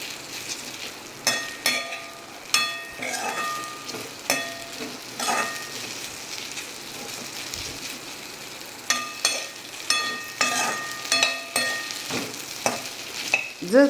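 Okra frying in an uncovered pan, with a continuous close sizzle broken by regular scraping and clinking strokes of a spatula as it is stirred, with a short pause in the middle.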